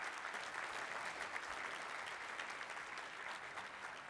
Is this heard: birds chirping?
no